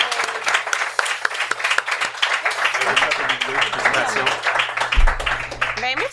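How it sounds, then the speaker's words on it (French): Applause as Sarah receives her trophy: dense clapping under lively talk from people nearby, with a few voices rising over the clapping toward the end. "On l'applaudit"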